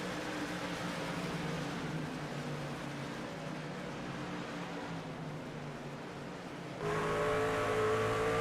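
Race truck engines drone at Bristol Motor Speedway during a Showdown Truck Series race, a continuous loud mechanical roar with a steady pitch that steps up in intensity near the end.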